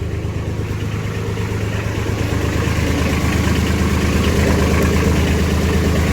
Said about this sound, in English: Let's drive forward until it's tight on that chain.